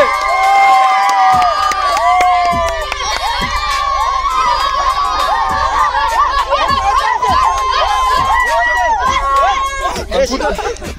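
A crowd of village children cheer, shout and clap loudly after a balloon-stomping game, a continuous excited din of high voices with scattered claps throughout.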